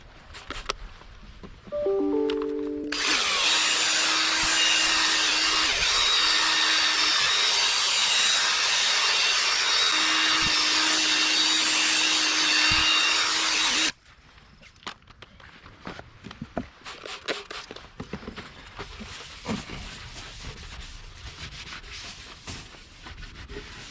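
A power sander with a sandpaper pad works a plastic headlight lens, giving a steady, close, abrasive whir for about eleven seconds after a few short starting tones, then stopping abruptly, leaving quieter handling noises.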